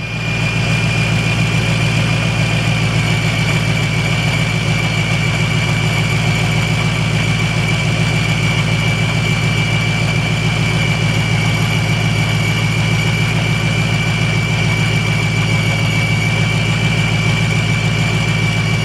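A 2005 Ford Mustang GT with a charging issue idles, a loud, steady, close engine drone with a constant low hum and a high whine held through the whole stretch, no talking.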